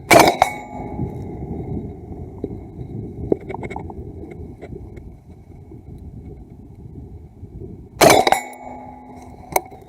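Two rifle shots fired outdoors while zeroing an ATN ThOR LT 4-8 thermal scope, each a sharp loud crack with a ringing tail, several seconds apart over a low rumbling background.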